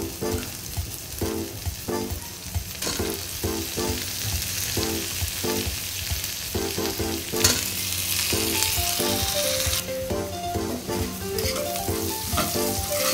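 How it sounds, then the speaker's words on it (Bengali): Taro stolons frying with onions in a pan, giving a loud continuous close sizzle with rhythmic stirring strokes throughout. "এখন এর মধ্যে লতিগুলো দিয়ে দেবো।"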